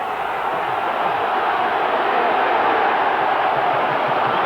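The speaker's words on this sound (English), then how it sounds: "That's great cheering on from the crowd at Halifax." Steady roar of a crowd cheering on Halifax at a Halifax v Leeds rugby league match, a dense continuous wash of voices at even loudness throughout with no distinct single shout.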